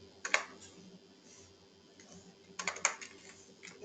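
Keystrokes on a computer keyboard while writing code in a developer console, a quick burst of clicks, a quiet pause, then another cluster of taps, close and fairly soft.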